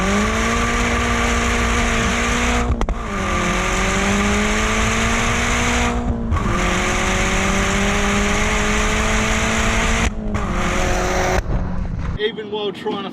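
A Stage 2 Volkswagen Golf Mk4 GTI engine screams at high revs for a long stretch as the wheels spin with traction control off, briefly dropping and climbing again between gear changes, close and constant.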